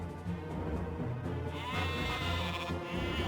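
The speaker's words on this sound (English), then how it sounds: "Damn sheep are in the way." Sheep bleat in Warcraft III, a wavering nasal cry rising over a busy, dense game soundscape of rumbling and clatter, loud and close.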